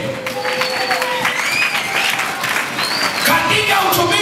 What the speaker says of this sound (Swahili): Wapigie Yesu makofi